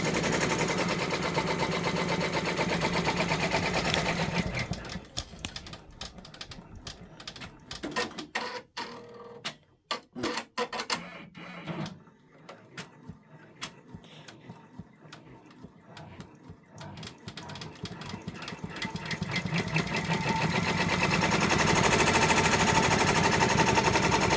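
A Brother embroidery machine stitches a freestanding gingerbread village bridge in rapid, rattling needle bursts, loud and continuous at first, then broken into stop-start runs before building back to steady stitching.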